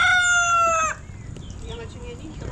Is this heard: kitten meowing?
no